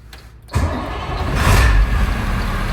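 A custom racing school bus engine cranks and catches after a short quiet pause, then settles into a loud, steady running rumble close by.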